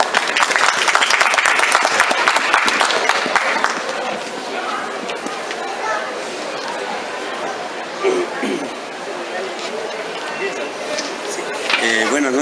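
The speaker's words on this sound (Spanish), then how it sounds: "Fuertes aplausos, por favor." A crowd applauding at a literary book presentation: loud, dense clapping that fills the room at first, then thins into scattered claps and murmuring voices, with people talking over it near the end.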